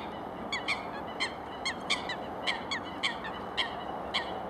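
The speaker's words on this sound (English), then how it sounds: "birds in the background." Birds honk in the distance in a string of short repeated calls, several per second at times, over a steady hiss of outdoor background noise.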